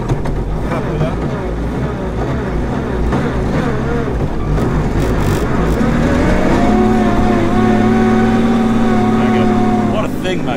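Rare McRae Enduro rally car, a big desert-style machine, running flat out on the Festival of Speed rally stage, its loud engine roaring steadily and rising in pitch through the gears.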